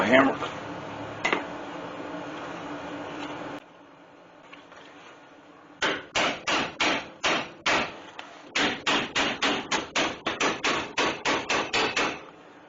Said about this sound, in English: Let me get a little hammer.